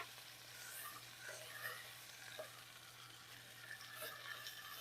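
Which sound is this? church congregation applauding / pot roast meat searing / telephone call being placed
pot roast meat searing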